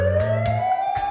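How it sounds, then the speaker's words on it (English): Ambulance siren, one brief steady tone rising slightly in pitch, loud and close with light music underneath. "Ambulance."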